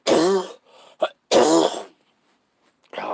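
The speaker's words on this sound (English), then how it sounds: "at least the cough is a little better." A person coughs twice in heavy, rasping bursts, close and loud, with a brief throaty catch between them and quiet pauses after.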